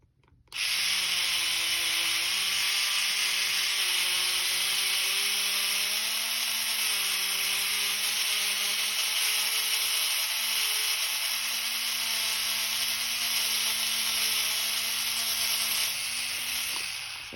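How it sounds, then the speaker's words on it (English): A buffing wheel spins steadily and loud while metal is polished with green compound, a sustained whining motor hum with a bright hiss that starts abruptly and holds without voices. "Just polishing it out."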